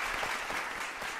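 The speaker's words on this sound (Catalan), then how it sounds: "Temps, Marina, un fort aplaudiment." A studio audience applauds on a spelling quiz show, a short burst of dense, close clapping that holds steady from start to end.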